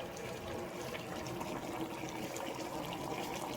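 A ketchup and soy sauce mixture with a pinch of sugar pours steadily into a pot of Jamaican brown stew chicken, giving a continuous close liquid splashing rush with no talk.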